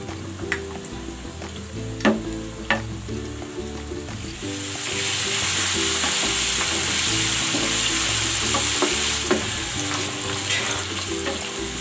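Tofu goes into hot oil in a pan. Quiet clinks and stirring come first, then a loud, continuous crackling sizzle swells up and holds steady to the end.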